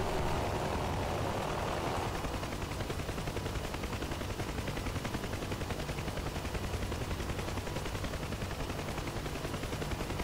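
Rapid, continuous gunfire from a combat helicopter in the DCS flight simulator, a dense rattling stream running unbroken for about ten seconds over a steady engine roar.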